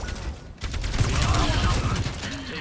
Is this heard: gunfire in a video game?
yes